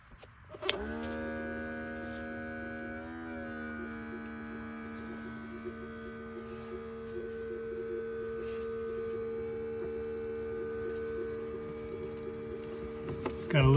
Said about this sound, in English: So I've got a smoke machine hooked up here, and we're just gonna feed some smoke in through the intake.